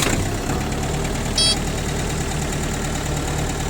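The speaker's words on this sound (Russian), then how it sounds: "Давайте трактор запустим." A Mitsubishi MT23 mini tractor with 1242 engine hours settles into a steady, quiet diesel idle, a low even chug with faint knocking, plus a brief high click midway; no voices.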